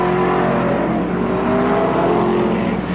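Modified race cars run on the Merrittville dirt track in 1988, giving a loud, steady, overlapping engine roar with no break.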